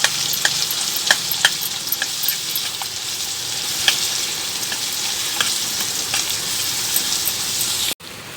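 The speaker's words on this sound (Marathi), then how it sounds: "मसाला पण एक पाच मिनटं तेलात परतून घेऊ" Masala frying in oil for sev bhaji gives a steady, close sizzle with a spoon scraping and stirring at intervals, and a brief cut near the end.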